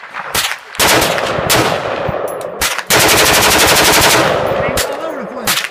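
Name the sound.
rapid gunfire from an AR-15 rifle with slide stock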